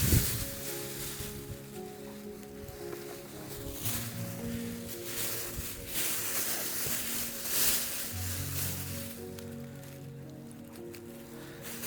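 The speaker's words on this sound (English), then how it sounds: "The wind is doing its best to work against me today." Outdoors, wind rushes steadily and fairly softly in gusts, swelling and fading over a low rumble, with no one talking.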